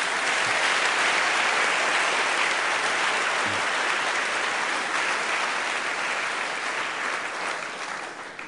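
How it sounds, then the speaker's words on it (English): An audience applauds steadily at the close of a scientific lecture, loud and sustained clapping filling the whole stretch with no voices over it, tapering slightly at the end. "And now you can clap."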